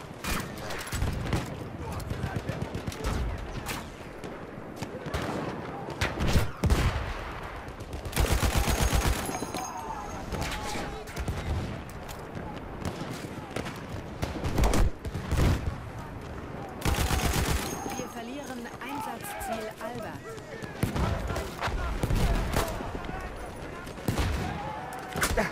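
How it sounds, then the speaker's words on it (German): Lewis Gun machine gun bursts in Battlefield 1 online play, rapid rattling volleys in several long strings amid other battlefield gunfire, with a player talking over the action. "Die Lewis Gun finde ich gerade richtig geil."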